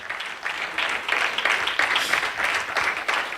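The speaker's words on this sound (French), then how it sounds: "Est-ce que nous pouvons offrir des acclamations à notre Dieu?" A church congregation applauds with pulsing, uneven waves of clapping that rise and fall in loose bursts, fairly close and without talk over it.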